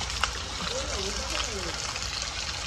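Water runs steadily from a spring outlet into a temple bathing area, a constant broadband wash of flow with a voice briefly speaking over it.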